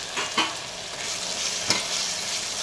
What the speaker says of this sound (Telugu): కరివేపాకు వేయాలి.